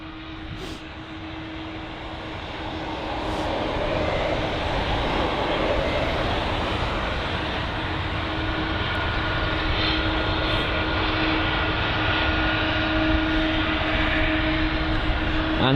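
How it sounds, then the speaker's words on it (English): A United Airlines Boeing 777 departs London Heathrow on a foggy morning, its jet engines a steady, distant roar that swells slightly and holds. "We've got the United Boeing 777."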